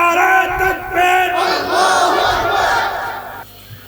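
A large crowd roars a loud, sustained collective shout in answer to a takbir call at an Islamic religious gathering, a single voice leading before the massed voices swell and then fade.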